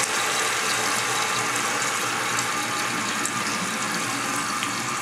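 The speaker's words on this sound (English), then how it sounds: "I'm going to turn the water on here just to see how high it does fill." Water rushes steadily into a running toilet tank as it refills after a repair. The broadband hiss of the flow holds even and close throughout, with faint mechanical ticks from the fill valve and no talking.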